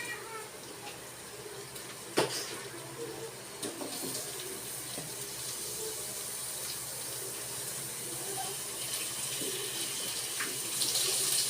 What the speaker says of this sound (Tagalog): lagyan na natin ng tubig yung niluluto natin